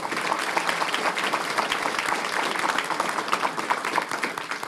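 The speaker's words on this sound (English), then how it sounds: "let's ask them to stand and give them a round of applause as well" School board meeting audience applauding, dense continuous clapping from a roomful of people, steady and fairly loud throughout with no voice on top.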